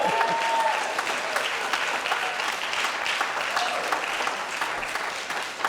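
Steady, dense applause from a church congregation after a song accompanied by bongos, continuous and fairly loud for the whole stretch.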